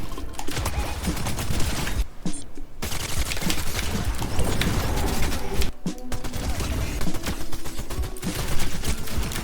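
Rapid bursts of gunfire from a Fortnite fight, near and loud, with dense overlapping shots filling most of the stretch, broken by two brief pauses.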